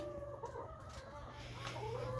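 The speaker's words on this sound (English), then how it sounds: "These chickens in here, I think, are 10 weeks old and are for sale." Young chickens, about ten weeks old, clucking inside a farm coop, a steady low murmur of fowl calls with a few brief rising notes over constant background noise.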